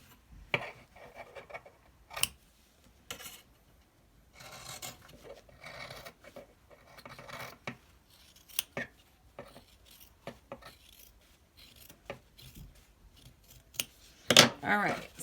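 Scissors snip away excess cotton fabric while trimming a homemade elastic face mask, a series of sharp close cuts in uneven bursts with soft rustling of cloth between them, quiet overall and without talk.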